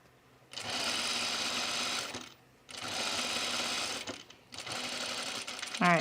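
Sewing machine stitching a dart on a blouse, running in three steady buzzing bursts separated by brief pauses, loud and close.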